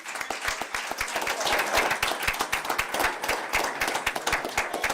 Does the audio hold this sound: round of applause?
yes